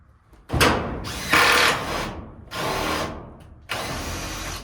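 A power drill drives a screw into the wooden frame of a homemade shop door in four close bursts, each revving up and then stopping, with short pauses between them and no talking.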